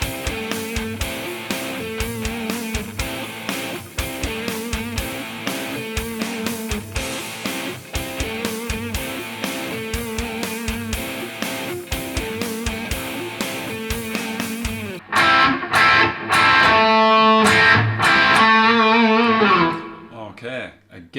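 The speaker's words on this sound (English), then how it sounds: "It's called double stops, and it sounds like this." An electric guitar plays quick double stops through distortion, a busy rhythmic run of paired notes, then several longer, bent notes ringing out near the end, played solo and close.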